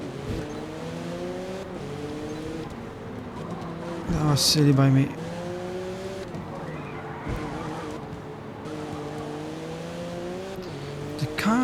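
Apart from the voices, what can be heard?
race car sliding with tire squeal in the video game Forza Motorsport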